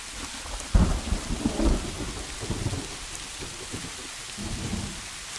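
Steady heavy rain pours onto a surface in a Bengali animated story, joined by low rolls of thunder, with no voices over the downpour.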